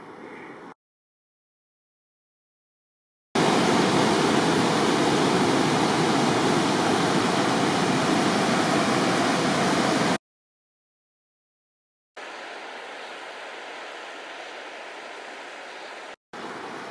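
Loud, dense roar of rushing white water along Going-to-the-Sun Road fills the clip in long unbroken stretches, separated by abrupt silent gaps.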